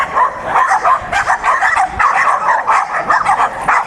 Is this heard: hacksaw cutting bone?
no